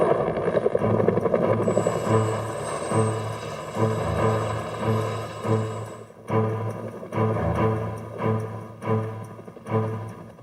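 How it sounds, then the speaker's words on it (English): Bell UH-1 Huey military helicopter rotor blades make a steady, loud, rhythmic whop-whop beat with a turbine whine above it. The beat pulses evenly throughout and grows slightly more pronounced toward the end, with no voices. "The distinctive sound of the rotor blades"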